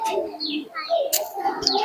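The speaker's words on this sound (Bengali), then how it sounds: "আয় আয় পায়রা মেন কথা কি পায়রা তো ঘরে ডোঙায় খায়" Madras pigeons coo in soft, repeated throaty calls, while nearby human voices call out over them.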